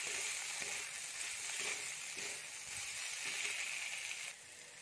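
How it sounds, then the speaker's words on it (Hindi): Steady sizzling of peanuts frying in a hot pan over high flame for a stuffed small brinjal dish, with occasional stirring scrapes, close and continuous, no talking. "और कुछ सेकंड हाई फ्लेम पर फ्राई करेंगे।"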